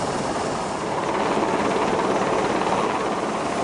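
A helicopter thunders in a steady, loud, dense rotor drone during a sea evacuation, continuous throughout without pauses or voices.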